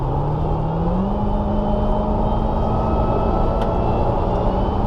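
Dodge Challenger Hellcat Redeye engine with a steady loud drone that rises slightly in pitch early on, a constant low rumble filling the whole stretch with no talk.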